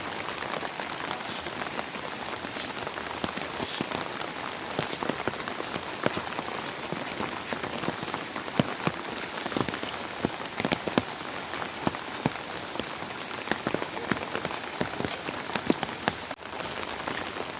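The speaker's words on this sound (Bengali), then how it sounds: "এই বৃষ্টিতে মনে হইতেছে যে বর্ষাকাল।" Rain falling on a rural village on a morning, a steady dense patter on surfaces with scattered louder drips, even and moderately close, with no talk.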